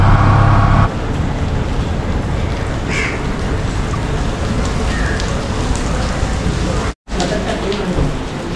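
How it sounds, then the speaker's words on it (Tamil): Steady rain patters and hisses on a surface during a road trip in Colombo, Sri Lanka, with a crow cawing now and then and faint traffic in the background. "இன்றைக்கும் மழையில் மாட்ட போகிறோம்னு நினைக்கிறேன்."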